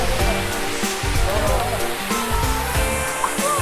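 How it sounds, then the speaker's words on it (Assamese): A mountain stream pours between hills along a road in Arunachal Pradesh, giving a steady rushing wash of water with a faint voice underneath. "জুৰিটো চাওক পাহাৰৰ মাজৰ পৰা ধুনীয়াকৈ পানী আহি আছে"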